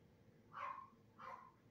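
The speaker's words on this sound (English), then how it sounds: "My dog is barking in the background downstairs." A dog barks twice from downstairs in a house, two short muffled barks about half a second apart, faint and distant against a quiet room.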